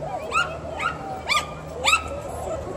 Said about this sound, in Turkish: Bizim köpek bas bas bağırıyor.